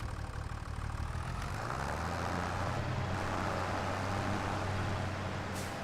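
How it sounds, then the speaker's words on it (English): A swath mower's engine running in Farming Simulator 25, a steady mid-to-low drone that shifts pitch and rises slightly as the machine works, continuous throughout with no talk. "Swath mower."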